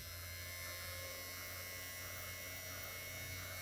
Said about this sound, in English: Perfectly working motor.